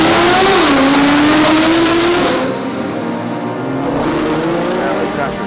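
A supercar engine revs hard at a car rally, a loud roaring drone that rises and falls in pitch, close and continuous with a crowd's noise around it.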